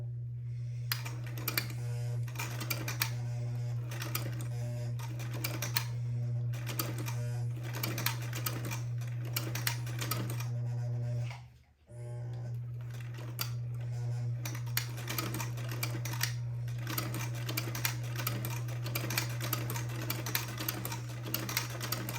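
A sewing machine fitted with a template buttonholer stitches a buttonhole in quick rapid bursts of close, clattering needle strokes, pausing briefly midway before resuming; a steady low hum runs underneath and nobody speaks.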